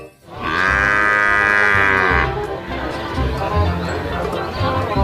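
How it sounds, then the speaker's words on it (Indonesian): A water buffalo lets out a loud, drawn-out moo lasting about two seconds, followed by lower grunting and lowing sounds, heard close up against a busy background. "Kita menemukan kerbau."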